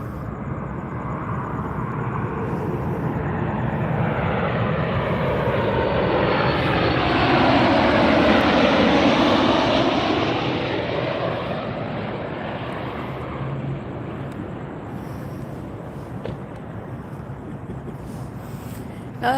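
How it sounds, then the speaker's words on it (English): A Boeing 737 MAX 8 arriving from LAX lands at Las Vegas airport, its jet roar swelling steadily to a loud peak overhead, then slowly fading into a distant rumble. "This is a 737 MAX 8 coming in from LAX"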